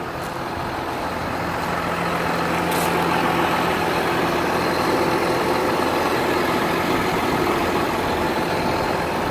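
A John Deere 6930 Premium PowerQuad tractor's engine runs in a steady, continuous rumble at close range, with no voices over it.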